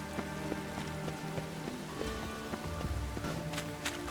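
Rain falling in The Witcher 3 video game, a steady patter on surfaces with scattered drips under soft background music, fairly quiet and without speech.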